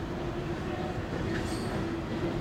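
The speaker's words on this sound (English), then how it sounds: "I came down to see some trains and I'm held up by a train" A freight train rolls through a railroad crossing in a steady rumble with clanking wheel noise and a faint high squeal partway through, heard at moderate distance without talk.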